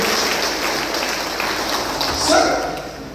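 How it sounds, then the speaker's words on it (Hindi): An audience at a resort night-stay motivational program claps loudly and steadily, a dense wash of applause that swells near the end before easing off. "जोरदार ताली।"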